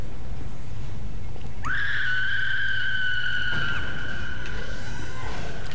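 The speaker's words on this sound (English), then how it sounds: "I heard a scream." A scream in the horror game Dead Space rises sharply into a long, sustained, piercing wail that fades after a couple of seconds over a dense, noisy game background.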